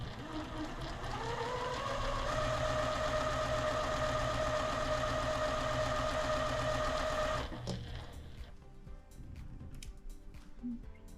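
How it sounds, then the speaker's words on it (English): A sewing machine stitches quilt squares corner to corner for a heart and granny square quilt, running as a steady, loud continuous whir for about seven seconds before stopping, followed by quieter handling of the fabric. "Now we are going to sew corner to corner."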